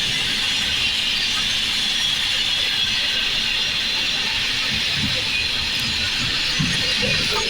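Sleeper class superfast train 22805 running at high speed, heard as a loud, steady roar with a sustained hiss and faint rail squeal, an unbroken rush with no talk.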